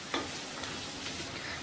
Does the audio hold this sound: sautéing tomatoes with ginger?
yes